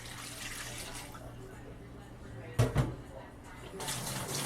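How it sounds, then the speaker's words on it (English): Water pours into a cooking pot over oxtails for Jamaican-style oxtails, a steady splashing rush with a couple of brief louder splashes as someone talks. "So then you're going to add your water."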